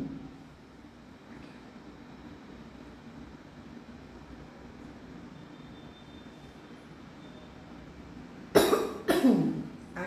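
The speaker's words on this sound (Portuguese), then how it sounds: "falando demais, eu estou começando a tossir" A person gives two quick, harsh coughs close to the microphone near the end, after a stretch of quiet room hum.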